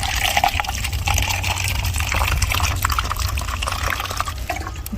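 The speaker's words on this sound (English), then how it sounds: "So here I have a cup, and I'm going to put some water in it." Water pours steadily into a cup, a continuous splashing gush that lasts throughout, close and fairly loud with no talking.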